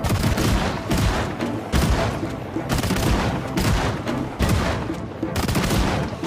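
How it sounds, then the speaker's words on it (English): Dense, continuous shotgun fire in Project Zomboid as a zombie wave is cut down, loud overlapping blasts packed tightly across the whole stretch with no pauses. "The shotgun ain't so bad."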